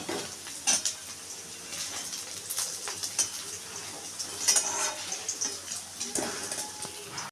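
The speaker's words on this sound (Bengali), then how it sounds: "সবকটা পনির আমি এবার ভালো করে ভেজে নেব" Paneer cubes frying in hot oil in a wok, a steady close sizzle with scattered scrapes and clinks of a utensil against the pan throughout.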